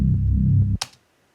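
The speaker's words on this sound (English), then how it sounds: "here is the Reese that comes in" A heavy Reese bass synth, low and dense with a thick sustained rumble that cuts off abruptly, followed by a short bright noisy burst and a quick fade to silence.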